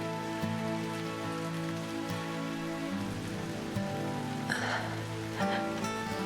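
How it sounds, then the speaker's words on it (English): Steady rain falls in the video game Crisis Core Reunion, a dense even hiss under a sustained musical score, with a few brief louder splashy bursts and no voices. "it's a terrible day for Rain again"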